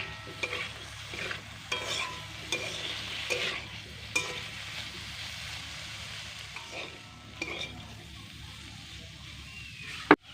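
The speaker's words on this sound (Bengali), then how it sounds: "এবার 2-1 মিনিট এটা খুব সুন্দর করে একটু ভেজে নেব।" Pumpkin green stalks and potatoes fry in a little oil in a pan, a soft low sizzle with intermittent stirring scrapes and clicks, fairly quiet and close, ending with one sharp knock.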